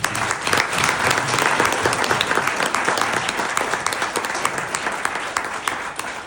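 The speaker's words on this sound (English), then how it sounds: "let's give them a big round of applause" Steady, loud applause from a crowd at an Army association chapter event, with dense clapping that holds for several seconds and eases slightly toward the end.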